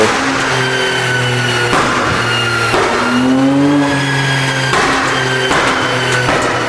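Loud drift car engine, a 335 with a custom exhaust, revving hard and holding high, with rising and falling pitch and brief gear changes, close by.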